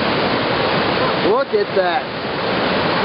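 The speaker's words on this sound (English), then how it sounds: "Nothing but giant rapids now." Giant river rapids roar as a constant broadband wash of rushing water on a raging river, loud and steady from start to finish, while a voice briefly speaks over it midway.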